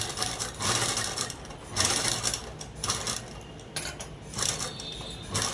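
A sewing machine stitching a boat neck long frock near a hole in the fabric, running in several short close bursts of rapid whirring with brief pauses between.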